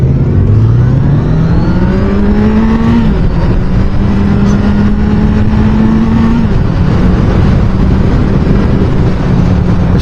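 A 2023 Kawasaki Z900 motorcycle engine pulls hard through rising revs, shifts, and climbs again under loud, constant wind roar from the riding position.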